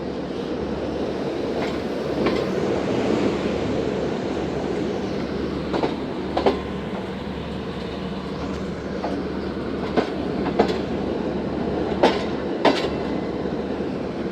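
A Karachi Express passenger train runs steadily between Multan and Lahore, a continuous low rumble with rhythmic clickety-clack wheel beats and occasional sharper rail clanks, heard from inside the carriage with no talk.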